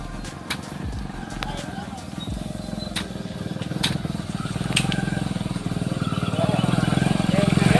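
A motorcycle engine rumbles and grows steadily louder as it approaches on a road torn up by heavy rain, with a few sharp clicks and knocks scattered over the steady drone.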